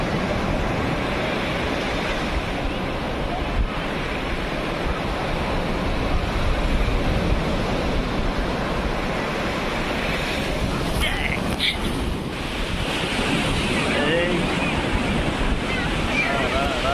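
Surf rolls in at Marina Beach, Chennai, as a steady, unbroken wash of waves, with wind buffeting the microphone throughout and no clear break in the roar.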